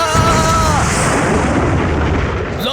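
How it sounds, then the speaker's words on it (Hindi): Cartoon fireworks going off in a Christmas celebration scene: a dense, loud burst of crackling, booming explosions with a whistling rise, filling the sky continuously without a break. "लो चला पटाखा आसमान में और शुरू हो गई आतिशबाजी"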